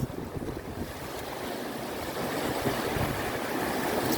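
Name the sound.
sea waves washing onto a stony beach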